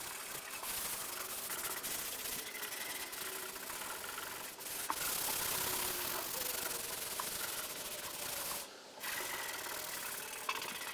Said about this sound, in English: all I'm going to use is just a Scotch-Brite pad that we had left over in the kitchen